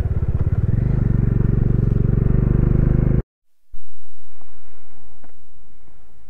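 A motorcycle rides up the cold, snowy road from Leh toward Khardung La pass, its engine a steady loud drone. Then a brief cut, followed by quieter wind and road noise.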